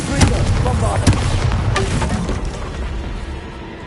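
Bombardo, a blasting spell from the Hogwarts Legacy video game, goes off as a series of loud, sharp booming bursts with crackling debris, a few strong hits early on that then trail into a rumbling fade.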